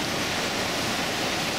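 The flooded Roya river at Dolceacqua roars as a steady, loud, broadband torrent of rushing water, continuous and unbroken with no voices.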